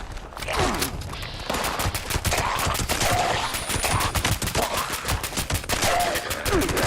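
Sustained rapid automatic gunfire in Fallout 76, loud close bursts of dense repeating shots with brief pauses and faint game sounds underneath.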